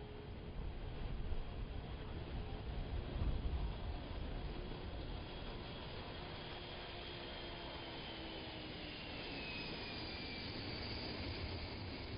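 Jet aircraft carrying Space Shuttle Endeavour taking off from the Kennedy Space Center runway, a distant, steady broadband roar that swells slightly and then holds, heard alone.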